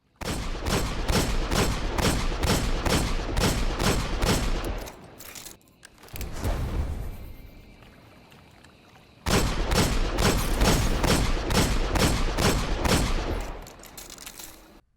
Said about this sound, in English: We're going to fire the weapon, and let's see what the recoil does for each one.